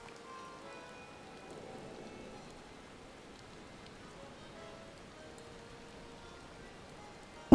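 Rain falls in the video game Final Fantasy 14, a faint, steady patter of drops on surfaces with no voices, ending in a sudden short loud burst.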